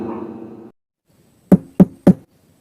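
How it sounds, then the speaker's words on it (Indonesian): Three sharp, evenly spaced knocks on a boarding-house door ring out loud and close after a brief moment of talk and a pause of silence. "tak berselang lama ada suara ketukan pintu"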